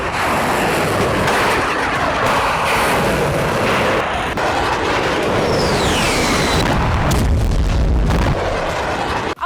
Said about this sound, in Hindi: रूस से ताबड़तोड़ प्रहार जारी है। रूस मिसाइलों का इस्तेमाल कर रहा है।